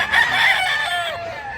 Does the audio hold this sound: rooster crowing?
yes